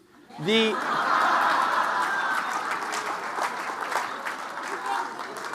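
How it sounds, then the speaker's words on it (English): A crowd at a talk applauds steadily for several seconds, with a brief voiced sound at the start and scattered chuckles mixed into the clapping. "Yeah, I guess you can clap."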